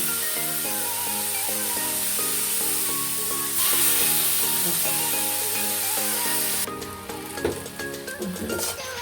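Water poured into a pan of semolina upma sets off a loud, steady sizzle and hiss, continuous throughout, with music playing underneath.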